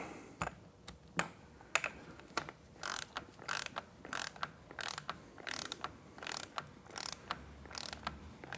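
A ratchet socket wrench with a 17 mm socket tightens the oil drain plug on a liquid-cooled Triumph Street Scrambler motorcycle, giving a steady run of quick, close, crisp clicks in short bursts with brief pauses between strokes.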